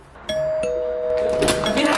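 A household doorbell rings with a clear two-tone ding-dong that sustains as a steady electronic tone, followed by rising background noise and voices.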